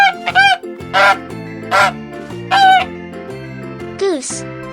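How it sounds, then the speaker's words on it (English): A goose honks loudly several times in separate, strident bursts over a simple, bouncy backing tune, the calls spaced irregularly and ending in a higher squawk. "Goose."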